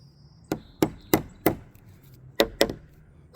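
Sharp, close knocks on a deck railing: four evenly spaced taps, a pause, then a few more taps, each ringing briefly.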